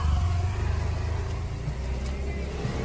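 A new car is driven along a road, its engine giving a steady low hum and rumble from inside the cabin, loud and continuous, with faint voices underneath.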